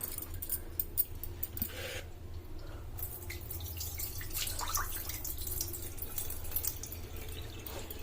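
Running water flows from a tap while food is rinsed and washed by hand for an instant dosa batter, with splashing, drips and soft clinks of a vessel. No voices are heard.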